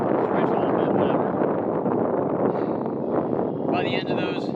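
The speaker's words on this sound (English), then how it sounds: "I don't know how loud it is because it's pretty windy" Gusty wind buffets the microphone outdoors during a break in a marathon track workout, a loud continuous rumbling roar, with a voice speaking through it.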